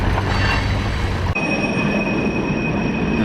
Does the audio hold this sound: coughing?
no